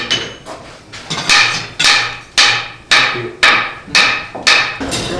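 Blacksmith hammering out a new andiron piece in a reconstructed colonial Williamsburg forge: about seven heavy, evenly spaced metallic strikes ringing near and loud, with no talk.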